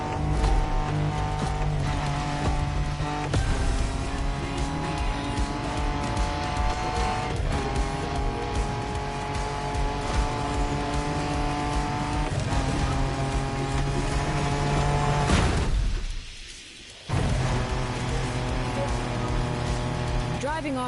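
A car engine drones steadily while driving off-road through open wilderness in The Crew Motorfest on PS5, with tire noise and a voice talking over it. About three-quarters through, the sound drops out briefly, then the engine returns.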